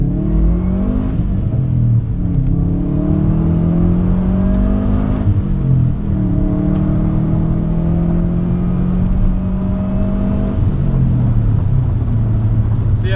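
A straight-piped 2013 Subaru WRX roars loudly through a first gear pull, engine pitch climbing steadily toward redline, then dropping briefly before rising again in a continuous droning exhaust note.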